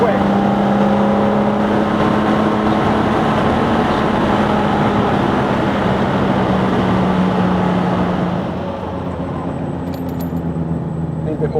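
Jaguar E-type engine droning steadily while driving on a test day, a continuous loud hum with tonal whine that drops slightly toward the end.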